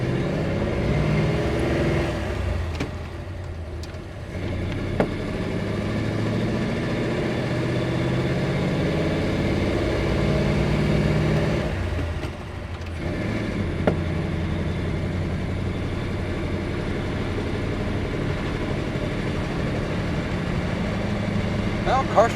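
1940 Ford Deluxe sedan cruising down a road, a steady low engine drone and road rumble heard from inside the car, continuous and close, with people talking over it at times.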